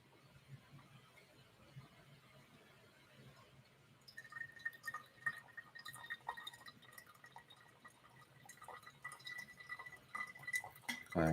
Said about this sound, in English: And then pour another 60 grams of water.